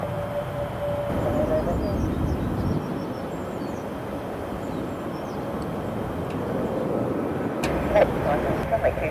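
A HiSky Airbus A321neo jet at London Stansted airport gives a continuous distant roar and rumble, while air traffic control radio voices talk over it.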